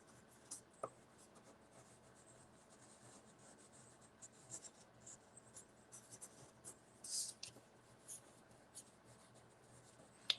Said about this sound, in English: I'm rolling the pencil in my hand